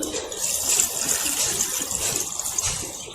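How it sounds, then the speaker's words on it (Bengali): Water poured into a tub of prepared soil for planting a water lily: a continuous splashing gush with a bright hissy tone that swells and eases slightly, close by, with no talk. "জলটা গামলায় দিয়ে দেবো দেখো জল টানছে হু করে দেখো জল"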